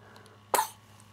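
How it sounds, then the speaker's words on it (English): A baby in a cradle gives a single short, sharp cough, close and fairly loud against a quiet room with a low steady hum. "Oh, bad cough."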